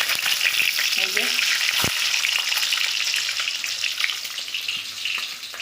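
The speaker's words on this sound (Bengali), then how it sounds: "তেল গরম হয়ে গেছে, আমি দিয়ে দেবো ডিমগুলো, দিয়ে দেবো ডিমগুলো ভেজে নেব" Eggs fry in hot oil in a home kitchen pan, a steady close crackling sizzle with a single sharp clink early on, continuing without speech and easing slightly toward the end.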